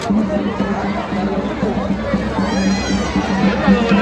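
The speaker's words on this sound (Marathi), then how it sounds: "कशी गर्दी आहे बघा." Crowd at the Mhasa village fair in Thane district, a steady babble of many voices and bustle with a low hum underneath, people talking throughout.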